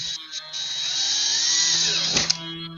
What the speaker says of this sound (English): This is only a cheap version of the Dremel, but I tell you now, I love it for doing little things like this.